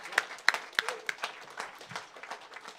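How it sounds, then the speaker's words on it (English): Applause from an audience at a school ribbon cutting ceremony: a burst of clapping from many hands that thins out over a few seconds. "Let's give that another great big round of applause"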